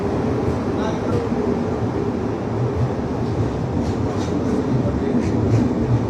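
Patliputra Express train hauled by a WAP 7 electric locomotive, heard as a steady, loud rumble with rhythmic wheel clatter from on board that runs throughout.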